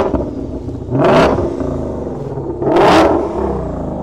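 American V8 car engine revving with its exhaust valves open, two loud throttle blips rising sharply over a steady rumbling idle, close by.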